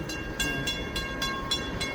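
An FEC northbound freight train rolls through downtown Bunnell, its steady rumble carrying a sustained horn tone and rhythmic rail clicks repeating about every quarter second.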